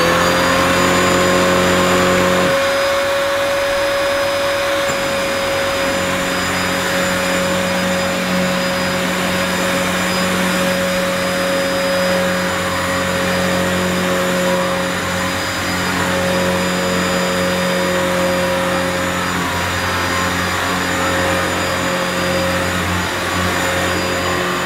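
Dyson DC28 Airmuscle Animal upright vacuum cleaner running: a loud, steady motor whine and airflow roar with a constant high tone, starting up and holding level for the whole stretch, no talk.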